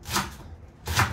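Two separate knife chops through leeks land on a cutting board, close and crisp, with a short quiet pause between them.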